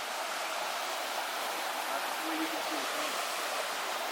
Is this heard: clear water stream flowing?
yes